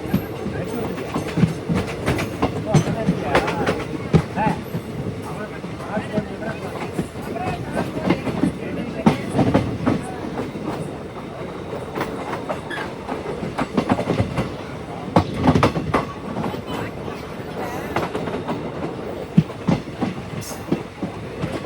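An express train from Coimbatore to Thoothukudi rolls along the rails with a steady rumble and rhythmic clickety-clack heard from inside the carriage, with periodic louder jolts and a voice talking now and then.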